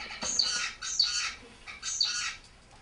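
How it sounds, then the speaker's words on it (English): An isolated zebra finch sings a short song of three or four bursts of harsh, buzzy syllables, clear and close, with no other sound. "Here is a song of an isolated zebrafinch."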